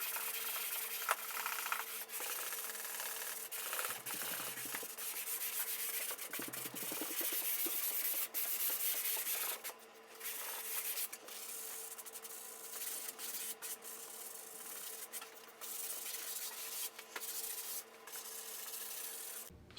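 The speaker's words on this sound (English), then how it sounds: "Now there's no reason that sanding the ceiling shouldn't be a great time." Drywall ceiling being sanded by hand, a steady close scraping and rubbing that continues across the whole stretch with brief pauses and stroke-to-stroke swells, over faint background music.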